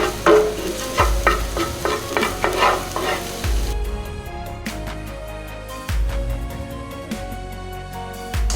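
Minced garlic sautéing in olive oil in a pan: a loud, close frying sizzle broken by repeated scraping stirs and utensil clinks in an uneven rhythm, with no talking.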